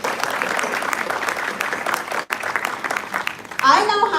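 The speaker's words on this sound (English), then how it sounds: "Please join me in welcoming our moderator and panelists with a warm round of applause" An audience at a recruitment panel discussion applauds warmly to welcome the moderator and panelists, a steady dense patter of many hands that briefly dips before swelling again as a voice begins over it.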